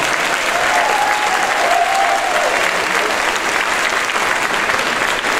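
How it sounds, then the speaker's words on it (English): A crowd gives a loud, sustained round of applause for high school helpers at a middle school sixth-grade band concert, dense steady clapping filling the room from start to finish. "let's have a round of applause for our high school help that we've got here"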